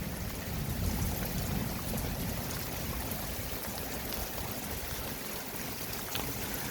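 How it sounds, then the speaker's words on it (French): Heavy rain pours down during a strong April thunderstorm in Montady, southern France, making a dense, unbroken roar with low rumbling beneath it, loud and steady throughout with no talking. "Oh non mais là il se met à pleuvoir comme un fou là."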